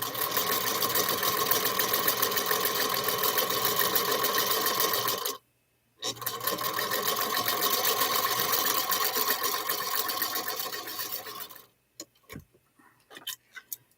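A sewing machine topstitches a small wallet in two long, fast, close whirring runs separated by a brief pause, followed by a few scattered clicks and taps as the stitching ends.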